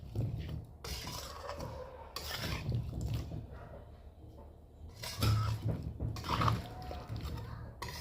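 Raw fish being mixed with spices by hand in a bowl for a quick, no-fry fish curry, giving soft wet squelching and rubbing sounds in irregular bursts, fairly close and moderately loud.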